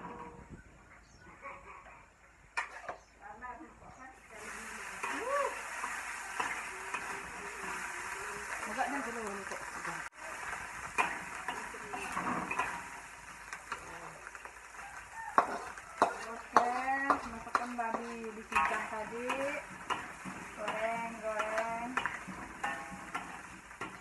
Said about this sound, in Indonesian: Babi yang jadi goreng dan dicincang tadi.